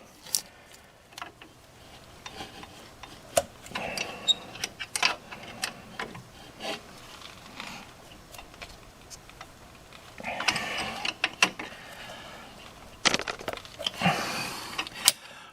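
Metallic clicks and ratcheting bursts come from a wrench tightening a brake caliper bolt on a 2000 Chevy Blazer, irregular and close, separated by quiet pauses and a few longer rattling runs.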